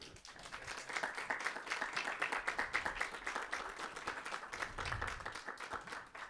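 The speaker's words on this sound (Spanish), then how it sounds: "para quien pido un aplauso" An audience at a university event applauds a writer, with dense clapping that stays fairly steady and then tapers off, heard from within the hall.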